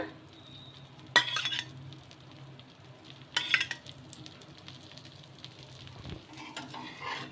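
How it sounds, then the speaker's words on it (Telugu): A dosa roasts in oil on a hot pan over high heat: a faint, steady sizzle runs throughout, broken by two short bursts of utensil clinks and scraping. "ఇప్పుడు హైలో పెట్టుకొని కాల్చుకోవాలి"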